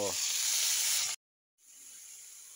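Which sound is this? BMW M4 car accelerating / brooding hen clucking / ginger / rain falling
ginger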